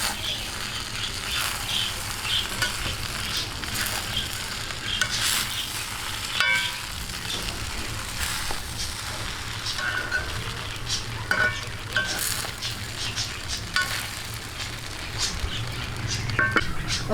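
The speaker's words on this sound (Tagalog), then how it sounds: "Siyempre po, maglagay tayo ng tinapa. Atin lang itong i-mix." Smoked fish (tinapa) is stirred in a sizzling pan while cooking pansit, with steady frying hiss and scattered scrapes and clinks of a utensil throughout, close and continuous.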